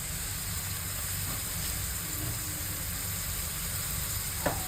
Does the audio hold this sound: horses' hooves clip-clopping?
no